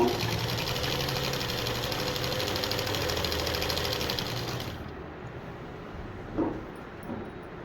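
A sewing machine stitches darts on a long dress converted from a frock or saree, running with a fast, steady whir for several seconds before stopping and leaving a quiet room with a couple of soft handling taps.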